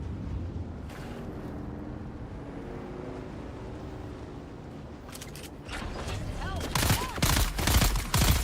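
Gunfire from a gun in Dune: Awakening rattles in dense bursts over a constant rumbling engine and wind bed, growing louder and sharper toward the end.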